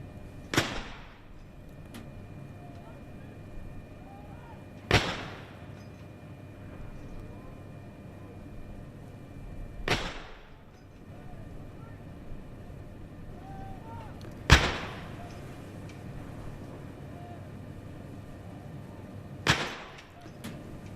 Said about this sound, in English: every year, guns are fired to mark the anniversary